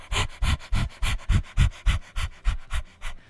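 A person imitating a dog's panting: about a dozen loud, close, rhythmic huffing breaths in steady succession.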